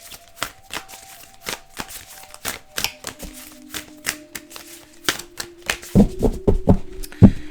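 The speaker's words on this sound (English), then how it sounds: "So we're going to go ahead and shuffle these cards" Tarot cards shuffled by hand on a table: crisp, close riffling bursts repeat at irregular intervals, building to a faster flurry of snaps near the end.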